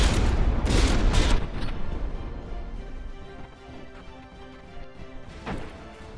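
Naval guns firing and shells striking ships in From the Depths: a dense burst of heavy booms and crashing hits, then sporadic fainter impacts over a low rumble, with one more thud near the end.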